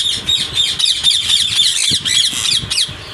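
Sun conure parrots in a breeder's aviary in Faisalabad squawk over and over, a dense run of harsh, shrill, overlapping calls close by with no voices.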